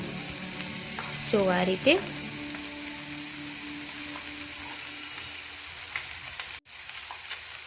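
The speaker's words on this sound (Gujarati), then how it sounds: "આ ભાત આપણે અંદર એડ કરી દેવું એકદમ સરસથી. પછી આપણે એને હલાવી લેશું." Cooked rice frying with masala paste in a pan gives a soft, continuous sizzle, with a brief spoken remark early on and faint scraping from stirring.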